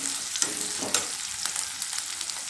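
Chopped onions sizzle steadily in hot oil in a pan while cooking an Odia-style potala (pointed gourd) curry, with a constant close crackle and a couple of sharper pops. No one speaks.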